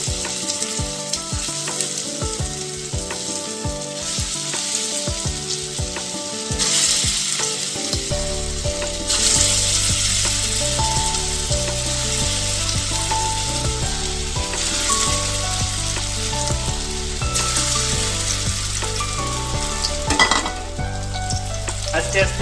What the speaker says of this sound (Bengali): এইবার আমি কোপ্তাগুলোকে আস্তে আস্তে ওর মধ্যে দিয়ে দেব।